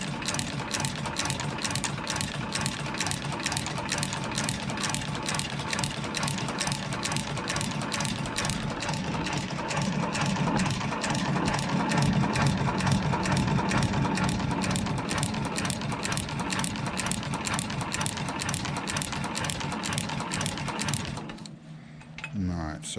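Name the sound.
sewing machine stitching elastic gusset into suede boots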